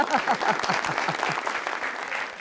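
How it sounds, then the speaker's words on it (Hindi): Women in a studio audience at an Eid-ul-Adha special TV show clap in a dense, steady burst, with a voice speaking over the applause. "ये खवातीन तालियां बजा रही है"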